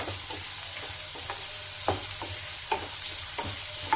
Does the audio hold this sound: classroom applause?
no